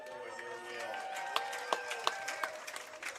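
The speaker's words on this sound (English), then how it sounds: "As Nixon Grace gets an applause as he's working behind these home plate fouls." Scattered applause from a baseball crowd at a Hoptown Hoppers vs Madisonville Miners game, a few sharp claps standing out over steady stadium murmur with announcer talk running over it.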